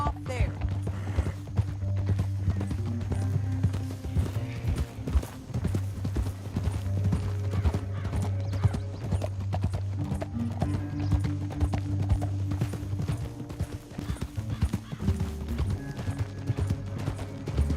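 Horses gallop in Red Dead Redemption 2, with rapid rhythmic hoofbeats running continuously over a low droning musical score, and a voice talking over the ride.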